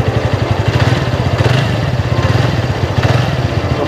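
TVS NTORQ 125 Race XP scooter with stock exhaust revving, a steady mid-pitched engine drone with throttle blips swelling near the start and again toward the end, loud and close.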